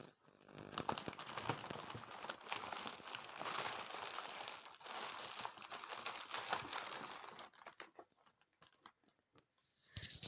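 Close crinkling and crumpling of an Easter egg's foil and cardboard packaging being opened, with irregular rustles and crackles that grow sparse and stop near the end.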